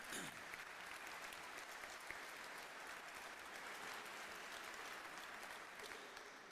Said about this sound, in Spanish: Yo voy a pedir otro aplauso para Leopoldo.